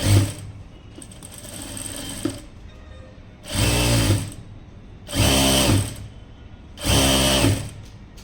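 A sewing machine stitches the hem of a blouse in three separate bursts of fast, steady whirring, loud and close, with softer handling noises and quiet gaps between the runs.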